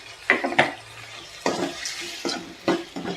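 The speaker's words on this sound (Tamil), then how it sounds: "இப்போ வந்து நல்ல எண்ணெயில் வதங்கிட்டு இருக்கு" Tomatoes with salt sautéing in oil in a pan for a Tirunelveli-style tomato pachadi, with a few sharp stirring scrapes and clatters over a soft, steady background sizzle. No one speaks.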